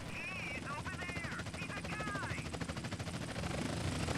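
A helicopter in GTA San Andreas drones steadily with rapid rotor chop, joined by bursts that sound like gunfire, and a person talks over it throughout.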